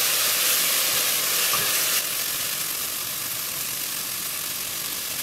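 Egg fried rice with soy sauce being fried and stirred in a pan, a steady close hiss of sizzling with a faint scrape partway through, no voices.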